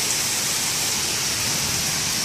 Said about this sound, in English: when it's coming up our driveway, that's a lot of rain